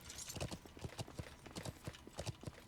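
Horse hooves clip-clop in a steady, quick rhythm in the medieval game Life is Feudal, a continuous muted clatter heard on its own at low volume.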